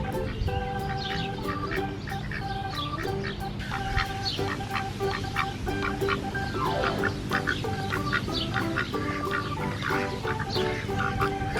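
Ducks and chickens at a dairy farm keep up a dense, continuous barnyard chorus of quacks and clucks, close and fairly loud throughout with no talk.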